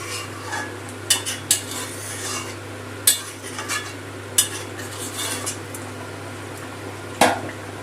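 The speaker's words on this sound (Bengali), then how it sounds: "জলটা দিয়ে ভালো করে মাংস মশলা সব মিশিয়ে দিলাম।" A spoon stirs chicken with spices and a little hot water in a pot, giving soft wet scraping and occasional sharp clinks against the metal over a steady low hum, no talk.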